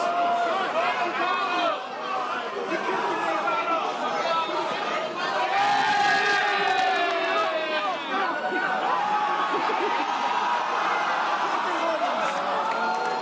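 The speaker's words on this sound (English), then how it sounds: "This crowd is at its peak right now." A crowd at a House of Glory wrestling main event keeps up loud, dense chatter and shouting throughout, a constant roar of many voices with no single standout burst.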